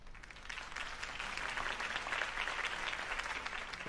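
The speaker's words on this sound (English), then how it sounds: "If only Mr. Wayne, my campaign's largest backer, could have heard that applause" A crowd applauds a campaign speech in a Batman video game, steady dense clapping at a distance, fairly faint and continuous without voices.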